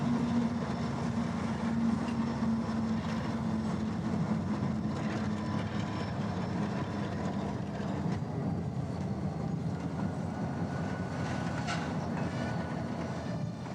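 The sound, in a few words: Union Pacific local freight train with EMD GP40 locomotive passing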